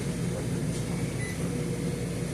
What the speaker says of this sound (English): It does microwave, just like a home microwave would be.